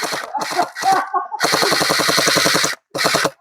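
A toy gel blaster gun firing in rapid bursts outdoors, a few short clusters of shots followed by a long continuous rattling stream and one more brief burst, loud and close to the listener.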